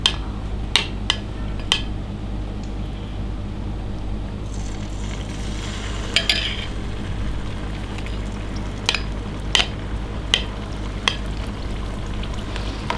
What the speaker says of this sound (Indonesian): Ini minyaknya sudah panas. Kita goreng tahunya.